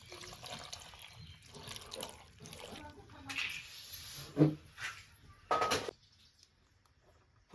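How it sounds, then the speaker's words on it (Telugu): Water poured from a glass into a cooking pot holding salt and turmeric for a tender pumpkin stew, heard as a couple of short splashing bursts amid kitchen clatter and nearby talking. "ఒక గ్లాసు వాటర్ వేసుకుంటున్నానండి."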